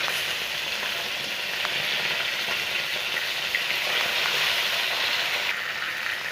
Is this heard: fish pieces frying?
yes